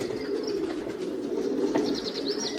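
Homing pigeons coo in a low, continuous murmur of overlapping calls, close and steady, with a few faint higher chirps and wing sounds mixed in and no voices.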